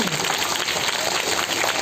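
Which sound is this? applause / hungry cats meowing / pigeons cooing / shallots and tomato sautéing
applause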